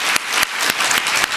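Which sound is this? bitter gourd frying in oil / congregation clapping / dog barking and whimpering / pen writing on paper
congregation clapping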